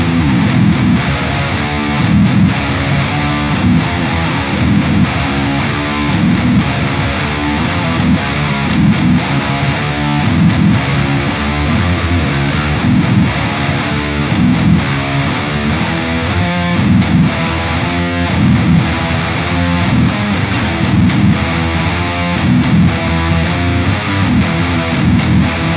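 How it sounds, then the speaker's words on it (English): A heavily distorted, high-gain electric guitar chugs through a dense, continuous rhythm part, loud and close throughout with no talking. "a pretty usable high gain rhythm tone"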